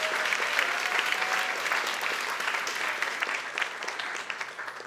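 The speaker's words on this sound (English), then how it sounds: "Can we get a round of applause for Exa, who's such a good facilitator?" Applause from a live audience at a morning creative talk event in New York, a dense steady wash of clapping that slowly fades over several seconds, with faint voices beneath.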